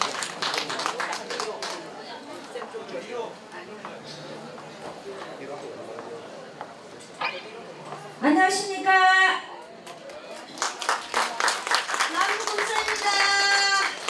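An audience claps to welcome two singers at a pre-event performance in the Andong indoor gymnasium. The applause is scattered and rising, heard under a presenter's speech and crowd chatter, with a voice greeting the crowd midway.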